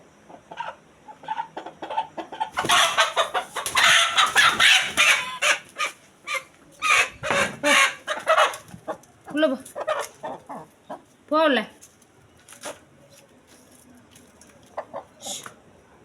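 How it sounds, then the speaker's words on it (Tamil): Chickens clucking and squawking in bursts, fairly close, with a busy flurry of calls early on and scattered clucks afterward; some faint talk in the background. "இப்போது கோழியை தூக்க போகிறோம்"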